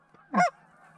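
A Canada goose gives a single clear honk in flight, moderately loud against a quiet open field during a goose hunt.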